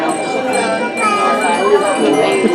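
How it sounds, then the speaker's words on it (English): Small bell tinkling continuously through a hand-waving magic trick, a bright ringing shimmer with a person speaking over it. "I'm ringing the bell."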